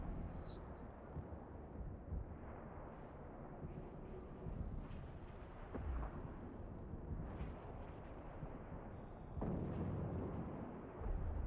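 Missile explosions in the EVE Online space game, a dense, continuous rumble of booms rolling over one another at steady loudness, with a brief high electronic tone near the end.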